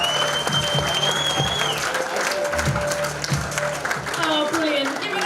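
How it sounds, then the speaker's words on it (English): Audience applause for a comedian at a live stand-up comedy competition heat, steady crowd clapping under a noisy room with tonal whistling or feedback-like sounds and some voices mixed in. "Come on, start the round of applause."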